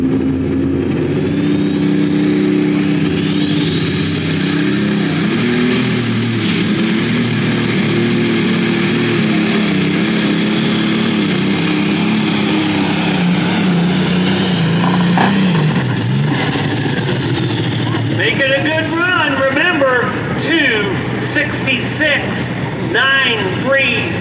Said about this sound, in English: he had the horsepower coming right out of the hole there, really spinning the tires.